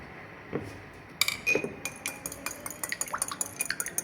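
An egg is whisked in a bowl with a little leftover water for a spinach and cheese börek, giving quick, rhythmic metal-on-bowl clinks that begin faintly and then run steadily and close.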